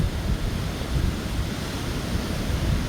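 Low ocean waves roll onto a Trinidad beach, a steady, dense surf rumble with wind buffeting the microphone, continuous and fairly loud with no voices.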